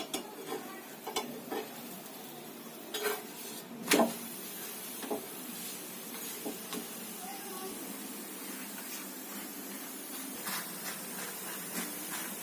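Chapati cooking in a pan, a soft steady sizzle with occasional scraping and light utensil knocks on the pan, close by with no speech.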